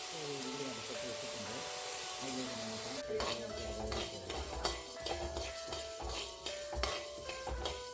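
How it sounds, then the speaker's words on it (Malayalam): Washed peanuts and green gram roasting in a pan for a healthy laddu, with scraping and stirring clatter after a quieter start, faint sizzling throughout and soft background tones. "ആദ്യം നമുക്ക് ഒന്ന് കഴുകി വറുത്തെടുക്കാം"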